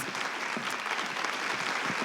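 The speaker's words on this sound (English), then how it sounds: "Please give Timothy Maurice another big round of applause." A TEDx audience at the University of Johannesburg gives speaker Timothy Maurice a big round of applause, dense and loud, sustained evenly without voices.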